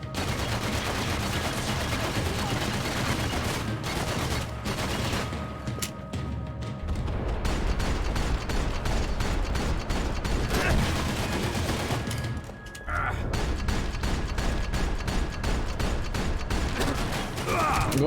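Sustained gunfire in Max Payne 3: dense, near-continuous volleys and rapid automatic bursts with booming impacts, one brief lull midway, then the firing resumes at full intensity.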